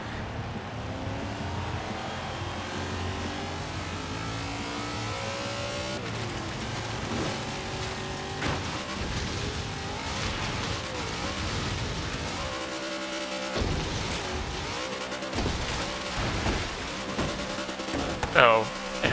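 The 2014 Monster Energy monster truck, styled like an older Ford F-150, drives in Forza Horizon 3 with its engine revving, surging and dropping. A voice talks over the loud, continuous motor, and there are a few thumps toward the end.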